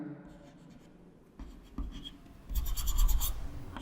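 Chalk or marker writing out an equation on a classroom board during a grade 7 maths lesson on simple equations, with a few soft scratching strokes building to a louder, denser burst of writing near the end.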